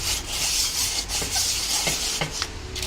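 Rough, rhythmic rasping of sandpaper scrubbing the metal flange of a brake disc, close and loud, in repeated back-and-forth strokes.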